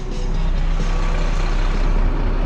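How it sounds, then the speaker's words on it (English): A heavy HGV tipper truck engaging gear and pulling away, a steady loud diesel rumble with low engine drone and broadband road noise throughout, no talking. "It might help if I put the truck in gear, eh?"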